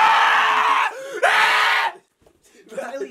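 A loud, sustained scream from a young man, two long shrill bursts broken by a short dip, then a pause and some quieter voices talking afterward.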